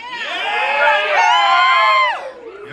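A large crowd in a medieval show arena cheers and whoops loudly for close to three seconds, a dense wall of voices that swells and then drops off.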